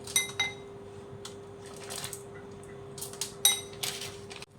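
Hard rock sugar pieces dropped into a blender jar while making a healthy chikoo ice cream for children, a series of sharp, bright clinks and rattles in irregular clusters against a steady faint hum.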